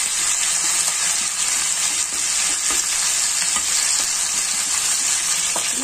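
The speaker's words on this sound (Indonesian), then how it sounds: "Jadi goreng ayam itu pelan-pelan teman-teman," Chicken pieces frying slowly over low heat in oil in a pan, a dense, continuous loud sizzle with faint scraping as the pieces are turned.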